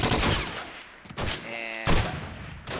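Gunfire crackles through a competitive video game match during a tournament group-play matchup, ending in a headshot kill. Dense, loud bursts of shots come in quick volleys, broken by a brief lull.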